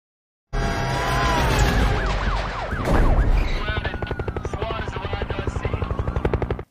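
A film chase scene: a police helicopter and cars pursuing a robbers' getaway car, with loud rotor thumping, swooping engine and siren-like sweeps, a heavy impact midway, then rapid rhythmic chopping pulses.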